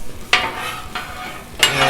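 Cabbage and other vegetables frying on a Blackstone griddle, with a steady sizzle broken by two or three sharp scraping stirs of a spatula, close and moderately loud.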